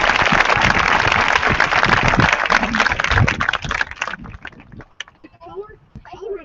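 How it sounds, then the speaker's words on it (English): Loud, close applause from a crowd at a high school graduation, a thick roar of clapping that breaks off after about four seconds into scattered claps and murmuring voices. "Seniors and our attending veterans with a big round of applause."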